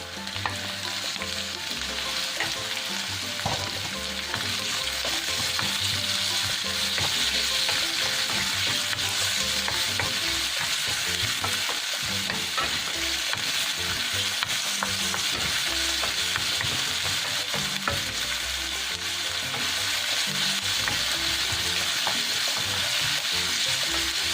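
Chopped chicken liver and gizzard sizzle continuously in a pan, a dense, loud crackle of frying with faint stirring scrapes throughout and no voices.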